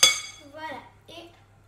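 A utensil clinks once sharply against a bowl of chocolate moelleux cake batter, followed by soft, voice-like tones in a quiet kitchen.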